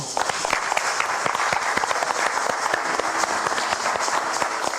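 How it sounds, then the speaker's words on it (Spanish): Steady applause from an evening ceremony audience, continuous dense clapping with individual sharp claps standing out, filling the whole few seconds at a moderate level. "También pido un aplauso para él."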